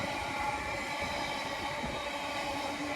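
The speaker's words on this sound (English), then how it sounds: "Not sure what this freight train is." A freight train rumbles steadily past at Bletchley station, a continuous dense roar of wagons and wheels on track that holds loud and close throughout.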